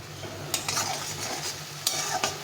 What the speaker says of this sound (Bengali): মশলাটাকে ভালো করে কষিয়ে নিতে হবে বেশ কিছুক্ষণ ধরে।